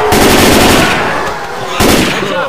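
Gunfire in the video game Left 4 Dead 2, loud dense automatic rattle that fades, then a renewed burst near the end, close and continuous.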